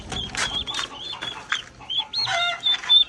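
Ducks for sale at a market, a run of close, busy quacks and clucks repeating in quick bursts, with little else in the background.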